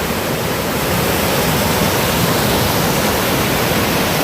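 A swollen river in Jamaica rushes in a constant, dense roar of churning water, heard close and loud with no talk over it.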